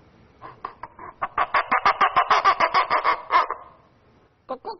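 A paper cup on a cotton string, pulled to imitate a rooster, gives a fast run of loud rasping cackles, about a dozen in a row, then a short pause and another burst.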